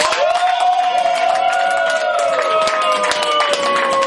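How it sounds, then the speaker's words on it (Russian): Guests at a jubilee celebration in a restaurant clap loudly and steadily over music and crowd noise, a continuous close round of applause. "под громкие аплодисменты гостей"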